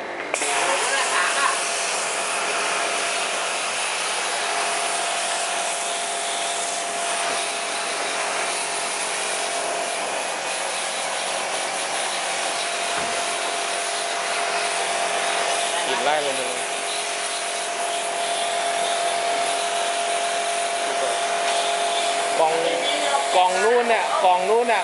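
A water sprayer blasts while washing a home air conditioner, giving a continuous hissing spray throughout as someone talks over it intermittently.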